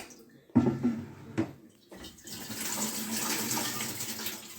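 Water sloshes and splashes in a couple of bursts, then pours steadily from a toilet into a bucket with a hollow, rushing sound.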